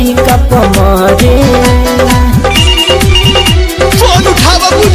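Phone ringtone ringing unanswered, a loud musical tune with a thumping rhythmic beat and melody that plays continuously and dominates throughout, with no speech.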